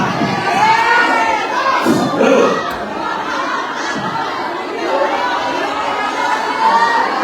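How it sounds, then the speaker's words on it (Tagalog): A large crowd of Filipino overseas workers in Japan shouts and cheers continuously, loud and dense, with excited voices swelling and overlapping throughout. "Yung sigawan."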